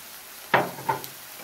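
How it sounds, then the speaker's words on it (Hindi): Spices such as turmeric hitting hot oil in a pan for aloo matar curry, two quick sizzling bursts close by, each fading into a soft hiss against a quiet background. "इसको 2 मिनट के लिए भून लेते हैं वापस"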